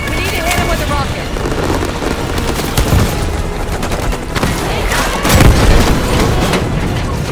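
A rocket slams into an enemy vehicle in Call of Duty: Black Ops 6, with heavy booms near three and five seconds rising out of a dense, continuous bed of gunfire and explosions.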